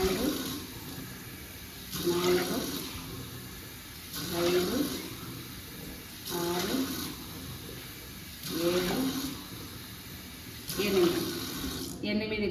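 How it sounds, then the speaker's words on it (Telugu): Water poured from a glass into a pot while making foxtail millet pongal, six separate splashing pours at steady intervals, each lasting about a second, with a person counting aloud between them. "ఇప్పుడు గ్లాస్తో వాటర్ పోస్తున్నాను"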